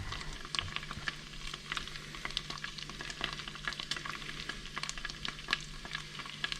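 Butter, garlic and tomato paste stirred in a frying pan give a steady sizzling crackle, with scattered scraping stir sounds throughout.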